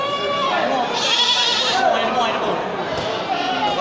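Goats bleating at the Bireuen livestock market, a couple of close, wavering calls over a busy background of people chattering nearby.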